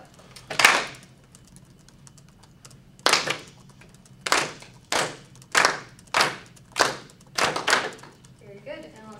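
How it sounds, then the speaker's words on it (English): A classroom group claps hands together in unison, one opening clap followed by a pause, then a steady run of about seven loud, sharp claps in an even rhythm, nearby with quiet room tone between. "let's all clap this very first one together"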